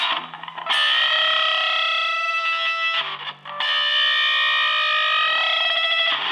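A heavily distorted electric guitar sustains notes with pitch slowly bending, two long held phrases separated by a brief break.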